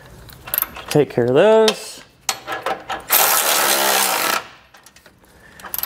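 A 24 mm socket on a powered driver removes the original tow hook bolts from a 2021 vehicle, a loud whirring mechanical burst lasting about a second, with a short spoken remark and other brief voices around it.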